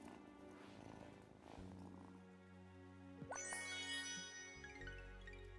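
A cat in the Wylde Flowers video game purrs softly, a faint low rumble mixed with quiet game music and light chiming tones.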